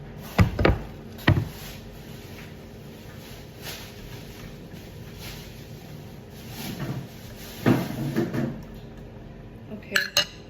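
An air fryer drawer being handled in a kitchen while salmon steaks cook, with a few sharp clunks and clatters near the start, more knocks around the middle, and a final rattle at the end.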